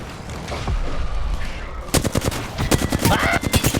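Rapid bursts of gunfire crack from above in an Apex Legends match, a muffled stretch giving way to loud, dense volleys of shots in quick rhythm.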